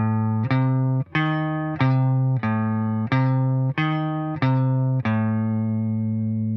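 Electric guitar picks a pentatonic phrase over a minor triad: about eight evenly spaced, sustained single notes ring out one after another, close and clear, with no talking.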